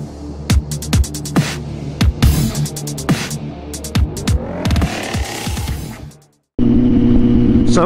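Motorcycle engine on a ride on Easter Monday, with irregular thumps and bursts of rumble, some rising revs, a brief dropout, then a steady droning hum close to the mic.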